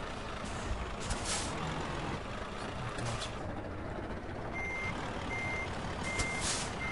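A truck in a video game reverses with a low engine hum, and about four evenly spaced high electronic backup beeps chirp clearly near the end.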